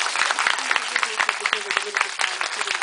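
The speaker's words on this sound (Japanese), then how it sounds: "皆様、キャスト、スタッフの皆様にもう一度大きな拍手をお送りくださいませ。" An audience at a Tokyo International Film Festival Q&A session applauds the film's cast and staff with a dense, steady patter of claps. A voice speaks over the clapping throughout.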